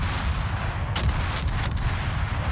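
Des Moines naval guns firing from a destroyer in a naval video game, a rapid series of loud booming shots in quick succession over a constant rumbling background.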